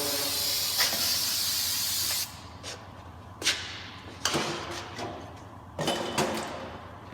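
Spray cleaner hisses onto a Jeep brake rotor to strip its protective coating, a long initial burst followed by several shorter sharp spritzes, close and alone.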